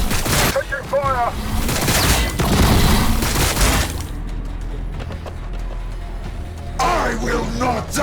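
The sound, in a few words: gunfire in Warhammer 40,000 video game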